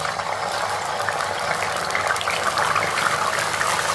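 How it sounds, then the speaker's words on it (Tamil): Amla and onion juice is poured into hot oil, giving a steady loud bubbling, sizzling gush that holds with no break for the whole stretch. "நம்ம வந்து நெல்லிக்காவையும் வெங்காயத்தையும் ஜூஸாவை எண்ணெயில் ஊற்றிருக்கோம்"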